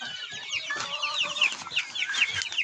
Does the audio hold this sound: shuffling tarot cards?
no